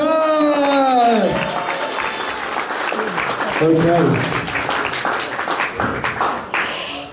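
Audience at a comedy hypnosis show breaks into applause and clapping after a voice and a rising tone, with a short spoken word partway through and a brief lull before the crowd noise resumes.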